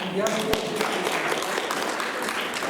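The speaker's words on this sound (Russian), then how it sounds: "Аплодисменты." Applause from a small crowd at a chatkhan playing master class, a brief burst of clapping at moderate distance that carries on steadily throughout.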